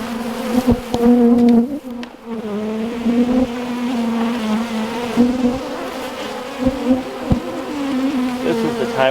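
Honeybees swarm around an opened horizontal beehive, a dense buzzing hum close to the listener, rising and falling as bees pass near, with a few brief knocks.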